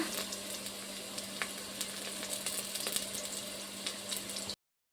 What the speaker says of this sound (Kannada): ಈಗ ಕರಿಬೇವು ಸ್ವಲ್ಪ ಹಾಕೊಳ್ಳೋಣ